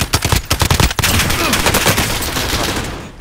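Rapid bursts of video game gunfire during a gas station robbery crackle loudly, a dense volley of shots in the first second followed by a sustained roar of continued firing and echo, with no talk.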